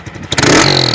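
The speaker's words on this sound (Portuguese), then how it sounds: "Dá uma aceleradazinha só de leve aí, vai." A motorcycle fitted with an ML Competition exhaust gives one short, sharp rev, jumping from a low idle to a loud, close roar within a second.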